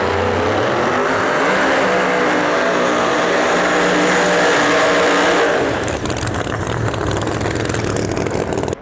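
Pro Mod Camaro drag race car engine at the starting line, a loud sustained rumbling roar with rough, uneven pulsing that shifts to a choppier, crackling tone partway through, close and constant.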